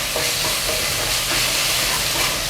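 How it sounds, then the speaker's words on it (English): Tobanjan chili bean sauce fries hard in a hot pan for mapo tofu, a dense, steady sizzle with light scraping as it is stirred, fairly close and continuous. "So now I'm going to add in tobanjan sauce and really cook tobanjan sauce as well"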